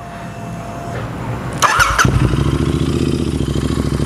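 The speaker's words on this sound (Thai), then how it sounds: "เดี๋ยวเราลองมาดูเสียงท่อกันสักนิดนึงว่าเสียงท่อคันนี้เป็นไงกันบ้างนะครับกระหึ่มแค่ไหน" A custom Royal Enfield Interceptor 650 Super Black with a WSW Custom exhaust cranks and fires after a quiet moment. It settles into a loud, deep, steadily thumping idle close to the exhaust.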